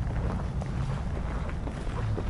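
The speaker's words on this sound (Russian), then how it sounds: "Но, блин, в лицо прям дует ветер." Strong seaside wind buffeting the microphone, a steady loud low rumble with gusty swells and no pauses.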